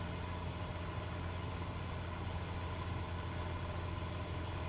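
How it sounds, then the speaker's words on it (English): Steady aircraft engine drone inside a flight simulator game cockpit with the door open, a loud, continuous low hum with a constant tone and no talking. "the engine sounds really noisy, but that's because the door's open"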